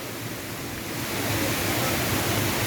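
Roaring rush of Gorge Falls in upper Tallebudgera, a dense, steady wash of falling water heard close and loud, swelling slightly partway through with no voices.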